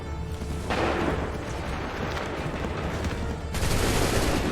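Musket volley in Assassin's Creed 3: a massed roar of gunfire that swells loud, eases slightly, then bursts out again, dense and close, with no distinct voices.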